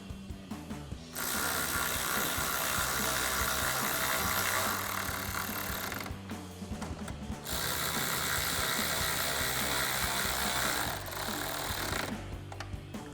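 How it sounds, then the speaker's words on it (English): A 10mm socket ratchet tightens bolts on the upper grille of a 2021-2023 Ford F-150, with dense mechanical clicking and whirring in sustained bursts broken by short pauses, loud and close. "And take our 10mm socket to tighten these down."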